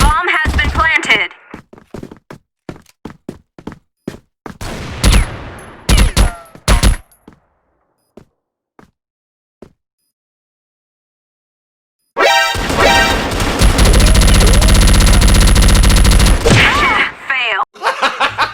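Gatling gun firing in a video game: scattered single shots and short bursts, then a long unbroken roar of rapid fire lasting about five seconds, loud and close.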